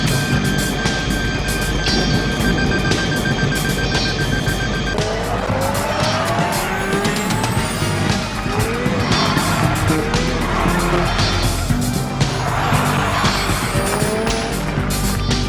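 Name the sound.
car speeding with skidding and squealing tires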